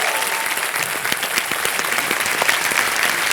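Studio audience on a TV game show set breaks into loud, sustained applause, dense clapping steady throughout with no break.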